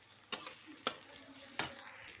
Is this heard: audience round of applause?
no